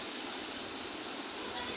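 Water poured into a cooking pot of frying cabbage and potatoes, about two glasses' worth, a steady unbroken splashing rush that stays loud and even throughout, close by.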